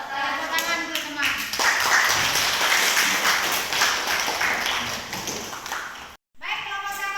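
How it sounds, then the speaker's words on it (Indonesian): Classmates in an Indonesian school classroom clapping for a group that has just presented, a burst of brisk, close hand claps lasting several seconds before it breaks off and a second short round starts. "Tepuk tangan untuk teman."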